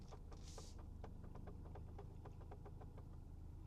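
A 2023 BMW 116i engine starting and settling into idle, heard as a faint low rumble with a series of soft rhythmic ticks and clicks, plus a brief hiss early on.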